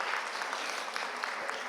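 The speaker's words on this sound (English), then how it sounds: "You can all have a clap for coming and making it a fantastic event." Audience at a conference clapping together, a short burst of steady applause heard at moderate distance with no talk over it.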